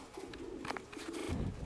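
A domestic pigeon coos close by in a loft on a windy day, a short throaty series of low burbling notes with wind and small rustles around it.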